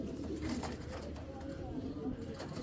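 Tournament Giribaz pigeons coo in low, repeated rumbling calls close by, overlapping with faint background voices and rustling.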